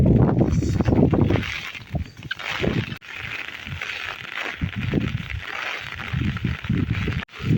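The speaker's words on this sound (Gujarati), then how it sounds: "પવન યાર મતલબ ફૂલ ચાલુ છે એમ અવાજ પણ મતલબ તમને સંભળાતો હશે વિડીયોમાં" Strong wind buffets and roars in uneven gusts over farm fields while a steady hiss of rain runs underneath, loud and close throughout.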